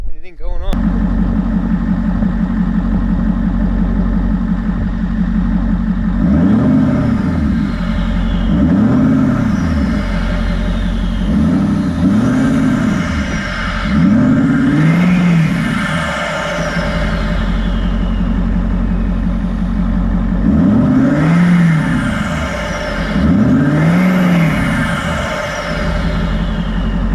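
Ford F-550 Powerstroke diesel tow rig fitted with a new S&B cold air intake, idling with a deep steady clatter, then revved repeatedly in rising and falling swells, loud and close with a brief pause between pairs of revs.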